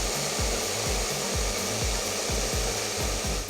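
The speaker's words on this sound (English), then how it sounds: "we're going to go ahead and use our blow dryer on it" A handheld blow dryer fitted with a concentrator nozzle roars steadily up close while drying hair, its airflow whooshing continuously with a rhythmic brushing or rubbing pulse beneath it.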